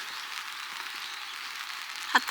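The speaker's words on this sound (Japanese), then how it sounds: "今日はあいにくの雨です。" Light outdoor rain falling steadily as a soft, even hiss, faint and continuous, with a couple of small sounds near the end.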